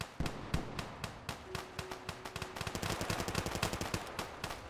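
Rapid gunfire in the Fallout video game, a dense run of sharp shots starting in bursts and quickening into a fast automatic rattle, loud and close, with no talk over it.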